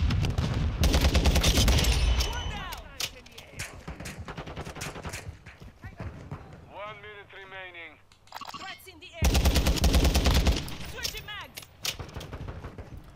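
Battle rifle fire in Call of Duty multiplayer on the Alboran Hatchery map: loud, rapid bursts of gunshots with a pause between, over game sounds, while someone talks over parts of it.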